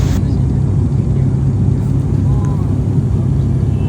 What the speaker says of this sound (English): We're landing into Pokhara.